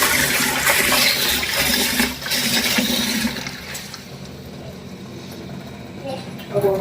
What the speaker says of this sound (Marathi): तर हे आता स्वच्छ पाण्याने धुवून घेऊ.